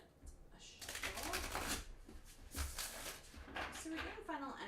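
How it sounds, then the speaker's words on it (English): A deck of Archangel Power Tarot cards being shuffled by hand, with repeated riffling and flicking bursts close up and steady over several seconds, no talking. "get a shuffle."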